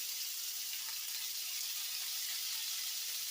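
Beef sizzles steadily in a hot pan as it sears for a crockpot stew, a continuous bright hiss held at an even level throughout with no talking.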